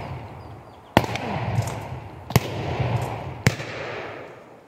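Three sharp gunshots from a rifle in the shooter game Escape from Tarkov crack out about a second apart, each a loud transient over a steady bed of ambient game noise.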